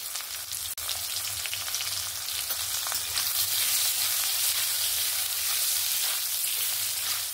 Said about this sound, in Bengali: এবার আলুটাও ভেজে নেব।